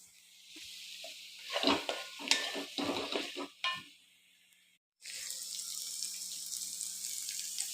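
Blended tomato from two tomatoes goes into a pan of browned onion for a chicken curry, a quiet wet pour and stir followed by a steady, louder sizzle of frying.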